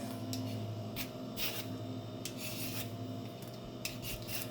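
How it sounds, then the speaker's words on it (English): Green papaya skin being peeled with a peeler, repeated short scraping rasps in an irregular rhythm, close and fairly quiet with no talking. "we're going to go ahead and peel the skin of your papaya"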